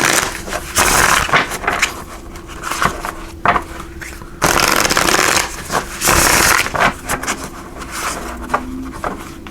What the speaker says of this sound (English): pulling some cards here from these Light Seers Tarot